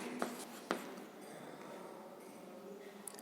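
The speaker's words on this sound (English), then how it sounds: "So here write down first" Pen strokes scratch across paper, with two sharp taps near the start and a faint continuous scribble that fades at the end. The sound is close and quiet, and no one speaks.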